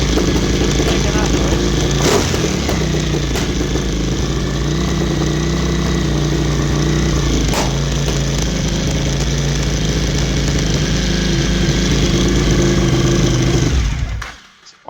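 A Suzuki TL1000R motorcycle engine idles high and steady close by after fuel system work, a continuous loud mechanical drone that cuts off near the end, with occasional talk over it.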